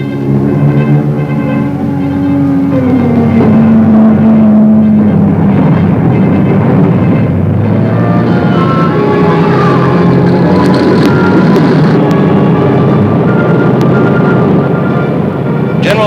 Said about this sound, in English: Stratemeyer, the TheAir commander, and Wolfe watched 68 superforts become airborne.